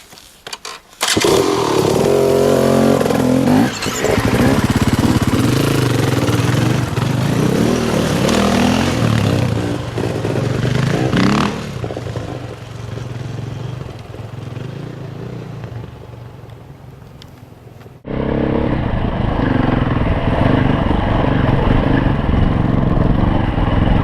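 KTM dirt motorcycles riding on slickrock rock terrain, engines revving loudly and continuously near the recorder, easing off midway then surging back strong, without talk.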